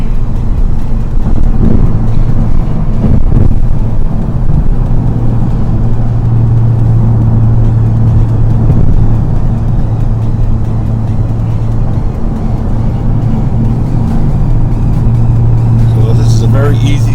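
Hyundai Sonata N Line fitted with an HKS upgrade, heard from inside while cruising: a loud, steady engine drone and road rumble throughout, with a slight rise in pitch near the end.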